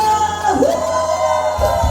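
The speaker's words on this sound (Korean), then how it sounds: "함성과 함께 소리 질러" Crowd at a singing class shouting and cheering in a sustained roar of voices, fairly loud, with a deeper burst near the end.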